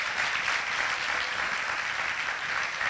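A crowd applauds a hardworking staff with a dense, even roar of clapping that stays loud and unbroken throughout.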